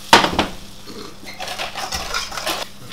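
Nuts tossed and toasted in a dry pan, a sharp clatter as they land followed by scattered rattling and scraping against the metal, close up with no talk.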